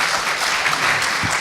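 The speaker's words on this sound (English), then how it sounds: "Please give a hand of applause to our..." Dense, steady applause from a conference audience for speakers at an expert panel on the future of mobility, a broad wash of many hands clapping at once with no voices over it.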